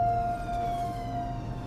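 Ambulance siren heard from inside a moving ambulance on the way to Ninewells Hospital, a steady sustained wail with one strong tone held over low road rumble throughout, fairly loud with no talking.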